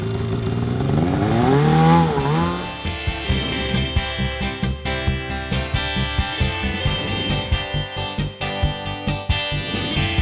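A snowmobile engine revs and accelerates on a ride, its pitch climbing and dipping before settling into a loud, steady drone broken by rapid rhythmic pulses, close up with no talking.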